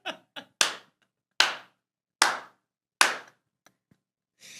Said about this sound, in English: Can you clap for me here real quick